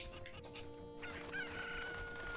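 Cucco chickens in the Zelda: Ocarina of Time video game, Kakariko Village, give a shrill squawking crow, a short electronic cock-a-doodle burst that rises and holds over steady game background music.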